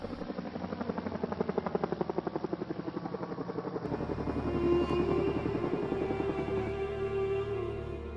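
Helicopter rotor thumps rapidly and rhythmically at first, then blends into a continuous loud turbine whine and roar as the aircraft draws near, with no speech over it.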